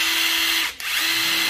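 Cheap cordless battery drill running near the microphone, a steady high motor whine that briefly drops and stops near the middle, then spins back up to the same pitch.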